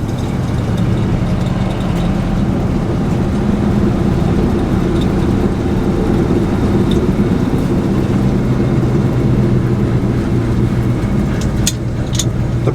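A 1957 GMC 100 Napco 4x4 truck cruising at about 20 mph gives a steady, loud, low engine drone with road rumble, constant throughout and free of speech.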